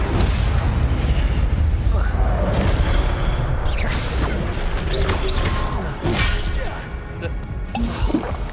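An Incendio fire spell cast in the video game Hogwarts Legacy, heard as loud, continuous whooshing bursts and rumbling blasts with layered impacts under game effects, with a voice speaking over parts of it.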